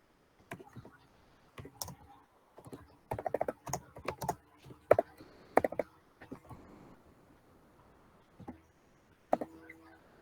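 Typing on a computer keyboard, close up and fairly quiet, with irregular clusters of key clicks separated by short pauses.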